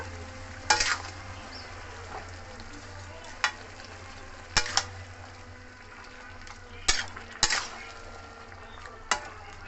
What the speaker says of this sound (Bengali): আমি এই নাড়ার সময় পুরো এই কচুগুলোকে এরকম নেড়ে নেড়ে নেড়ে ভালো করে এরকম মিশিয়ে দেবো